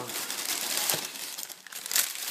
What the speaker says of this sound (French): Encore du papier craft.